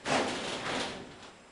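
A stiff, misbehaving workshop door is pushed and rattled, giving a short burst of scraping and knocking followed by a softer sliding rumble.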